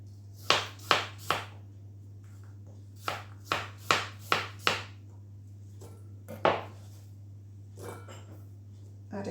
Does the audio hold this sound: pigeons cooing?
no